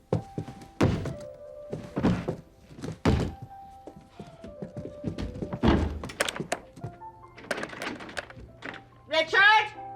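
A stuck interior door is banged and rattled in a TV comedy scene: a series of loud, close, irregular thumps and knocks spread across several seconds, with a voice calling out between them.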